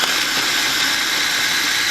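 A small electric mini food processor grinds organic ginger, a loud, close, steady motor whine with a churning rasp that holds evenly throughout.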